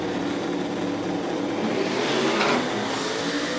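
Harrell-engined Chevrolet Malibu drag car launching off the line at a street drag event, a loud, dense engine roar that holds steady and swells briefly near the end, with no speech over it.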